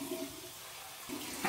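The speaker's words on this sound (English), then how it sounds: "here's our cold water rinse" Cold water running from a tap as a shaving-soap rinse, a steady close splashing rush that swells again near the end.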